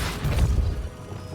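A Depulso force spell cast in Hogwarts Legacy, a single short low boom with a rumbling burst that quickly fades.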